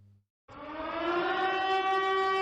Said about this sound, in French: Il sonnait 8h30 quand la sirène du CG Tchatchou retentit.